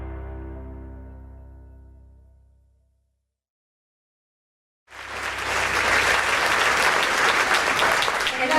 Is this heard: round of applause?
yes